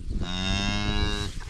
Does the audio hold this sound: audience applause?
no